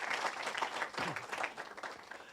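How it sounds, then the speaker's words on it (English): Audience at a graduation ceremony giving a round of applause, a steady wash of many hands clapping at moderate distance throughout, fairly soft overall. "Let's give you a round of applause"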